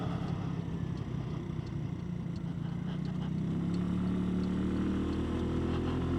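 Buddy 125cc scooter engine running steadily while riding at sunset, a continuous close drone with a slowly rising pitch and constant wind and road rush, no talk.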